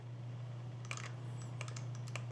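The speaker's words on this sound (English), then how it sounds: "How is the scroll wheel middle click? Is it harsh to click or is it soft to click?" Middle clicks on the scroll wheel of a wireless Logitech G502 Lightspeed gaming mouse: a few soft, sharp clicks in two small clusters, close and fairly quiet over a steady low electrical hum.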